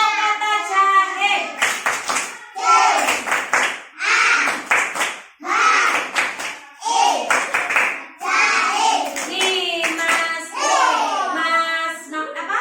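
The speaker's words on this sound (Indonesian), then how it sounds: "Coba tepuk kata jahe." Children clap out the syllables of a word in a classroom, short bursts of hand claps grouped between spoken and chanted voices, close and fairly loud throughout.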